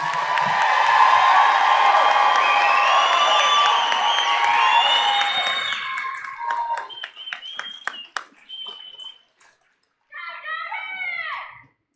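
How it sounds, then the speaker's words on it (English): A crowd at a 2024 Newcomb High School commencement ceremony applauds and cheers for the graduates, loud and sustained, then fades into scattered claps and a few calls before a brief burst of cheering near the end. "Give another round of applause for our graduates."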